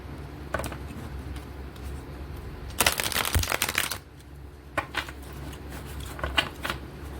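Tarot cards riffle and shuffle in a quick, close burst lasting about a second, with a few softer card flicks and slides before and after over a quiet room.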